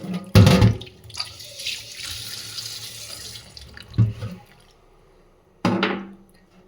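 Dishes being washed under a running kitchen tap: water splashes in bursts with clatter of plates, a softer stream in between, then another sharp gush near the end, close by.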